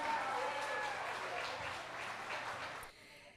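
An audience at a community event in Quebec applauds steadily, a dense wash of clapping at moderate distance that fades out near the end.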